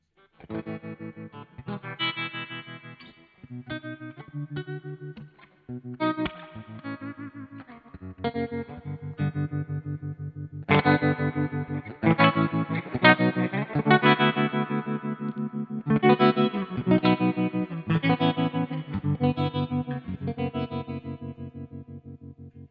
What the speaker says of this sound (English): Just a really, really nice tremolo pedal, basically.